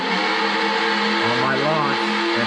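Electric motor of an RC Drag Slash car whining with the throttle held, a steady close-up tonal hum that rises and sweeps in pitch midway before settling back.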